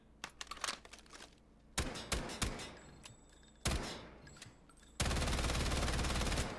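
A Kriss Vector submachine gun in .45 ACP firing in Delta Force: short, very fast automatic bursts, then a longer sustained string of rapid shots at the end, loud and close.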